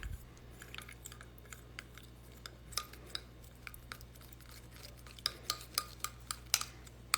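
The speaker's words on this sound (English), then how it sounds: "And then we're going to give it a good mix." A utensil stirs a DIY spa manicure mixture in a bowl, making sparse soft clicks and light scrapes that turn into sharper, more frequent taps toward the end, with no talking.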